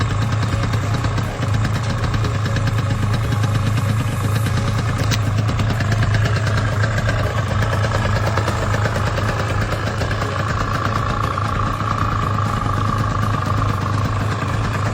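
A Suzuki RG125 Gamma two-stroke motorcycle engine idles steadily after being kick started, a loud, close, buzzing burble that holds without pause throughout.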